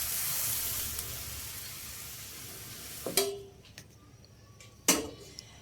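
Semai (vermicelli) stirred in a pan with milk boiled down until thick: a steady hiss of simmering at first, then quieter with a couple of sharp scraping knocks of the spoon against the pan.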